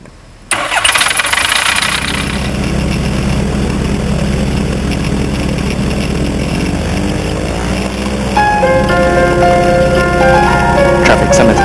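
A microlight trike's propeller engine starts up and settles into a loud, steady buzzing drone while taxiing, with a rising whine and tonal overtones appearing later as the engine note changes.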